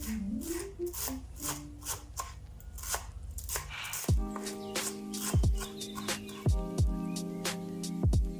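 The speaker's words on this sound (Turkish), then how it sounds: "dereotumuzu da ince ince doğrayalım" A knife finely chops dill on a cutting board, a quick run of light taps followed by several sharper, heavier strikes, close up.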